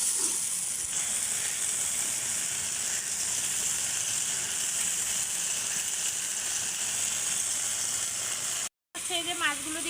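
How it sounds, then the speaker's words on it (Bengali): Spice paste (masala) frying in a pan for a village-style spinach and fish curry, a steady close sizzle with faint stirring, broken by a momentary gap near the end. "এখন কিন্তু মশলাটা বেশ কিছুক্ষণ কষিয়ে নেব।"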